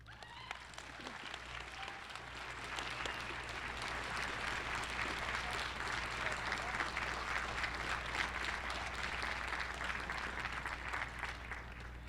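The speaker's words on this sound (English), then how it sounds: "Please give another round of applause for Casey for coming up here" Sustained applause from an audience at a Red Dress Day gathering at the University of Saskatchewan, steady dense clapping that swells after the first few seconds and holds evenly throughout.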